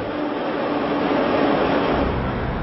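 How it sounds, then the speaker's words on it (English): A Moscow metro train rumbles along underground in a steady, loud, continuous roar of wheels and carriage noise, with no voices. "A must, the subway of the Russian metropolis."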